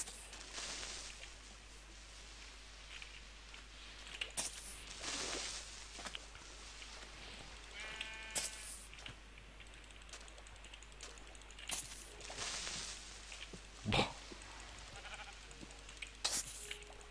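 A sheep in the Minecraft video game bleats a few short times at intervals, over sparse clicking from a keyboard and a low steady background hum.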